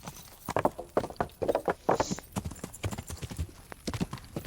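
Horse hooves clip-clop steadily at a riding walk in the video game Kingdom Come, a dense run of close, loud hoof strikes with a brief higher whinny-like tone partway through.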